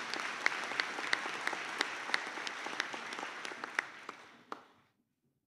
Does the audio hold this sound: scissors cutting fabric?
no